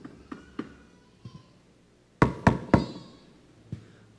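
Knocking as if on a door during a church sermon: a few soft taps, then three loud, hollow knocks close together and one more lighter knock after a pause.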